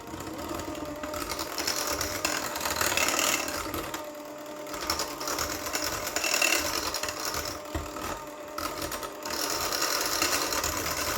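An electric mixer runs through cheesecake batter with vanilla, a steady whirring motor with a gritty rattle, pausing briefly around the middle before resuming, heard close and alone without talk.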